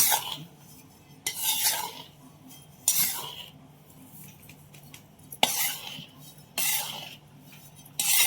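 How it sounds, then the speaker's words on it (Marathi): Sugar being mixed into a moong dal ladoo mixture with a spoon in a bowl or pan, giving repeated scraping, rasping strokes separated by brief pauses, close and fairly loud. "साखर पण ऍड करून त्याच्यात छानपैकी मिक्स करून घ्या"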